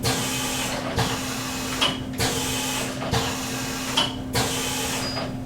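Pad printer's doctor cup sliding back and forth across the cliche to mix ink, a steady mechanical hum broken by regular sweeping strokes and soft clunks at each end of travel, about four passes, with no talking.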